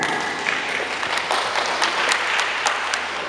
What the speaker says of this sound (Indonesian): kita berikan tepuk tangan sekali lagi untuk kelompok IPA